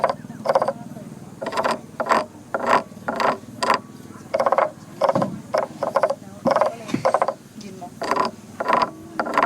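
A wooden frog toy, its back ridges rasped with a stick to mimic a frog's croak, heard at a Tai Lue museum in Thailand as a steady series of short, loud ratcheting croaks repeating about every half second, close by.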